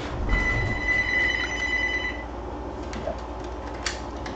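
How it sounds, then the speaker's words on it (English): A telephone rings with a steady electronic bell tone for about two seconds, then stops, leaving a quiet indoor room with a few faint clicks. "Pardon me, I forgot to unplug my phone."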